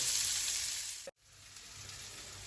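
Potatoes and onions sizzle in a frying pan for a traditional Tiroler Gröstl, a steady close hiss with a brief dropout in the middle before the frying noise returns slightly softer.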